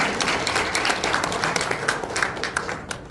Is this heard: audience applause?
yes